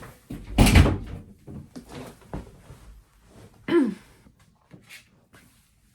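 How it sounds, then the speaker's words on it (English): A door is pushed shut nearby with a loud thump and creak, followed by a second softer knock and a few quiet shuffles and breaths. "I'm going to shut my door."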